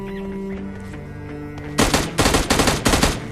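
Gunfire in PUBG Mobile Lite: a few rapid bursts of loud automatic shots ring out in clustered volleys after a quieter stretch of game ambience.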